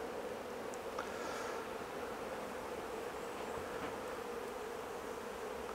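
Honey bees affected by chronic bee paralysis virus give off a steady, even buzz from the hive, continuous and moderately close with no voices.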